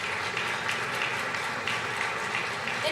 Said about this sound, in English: Please join me in a round of applause for all of our sponsors.